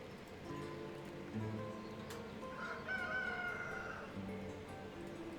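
Chickens in the village-building game Ostriv, with a rooster crowing and some clucking, faint and set against a low soft ambient bed.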